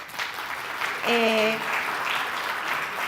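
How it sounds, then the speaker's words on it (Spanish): Audience applause welcomes a panelist at a Chilean housing access seminar, a broad wash of clapping that continues throughout while a voice briefly speaks over it partway through. "Un aplauso, por favor."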